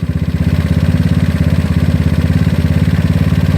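GY6 scooter engine with an OKO PWK 30mm carburetor running at a fast, steady idle during mixture screw adjustment, a loud close pulsing drone with an even throb and no talk.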